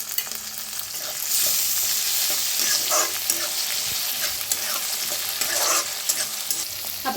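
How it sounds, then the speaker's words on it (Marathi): Onion, curry leaves, green chillies and tomato fry in a pan with a loud steady sizzle after they hit the hot oil, with occasional scraping stirs up close and no talking. "ह्याच्यात टाकूया कांदा, कढीपत्ता आणि हिरव्या मिरच्या। त्याला भी भाजून घेऊया।"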